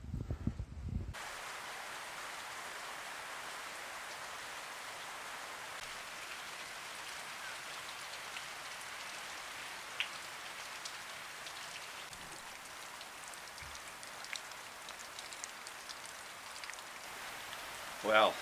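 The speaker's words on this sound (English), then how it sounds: "Well, that rain is not easing up at all." Heavy rain falls outdoors in a steady, even hiss, with occasional louder drips and patters on nearby surfaces, continuing without letup throughout.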